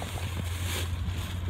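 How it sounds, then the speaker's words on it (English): Wind blowing outdoors at night, a steady rushing roar with low rumble throughout, close and continuous, with no voices. "It's very windy"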